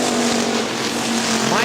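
Factory stock race cars droning around the oval at Hartford Speedway Park, a steady loud engine roar with a rising pitch at the end as a car passes, under an announcer's voice.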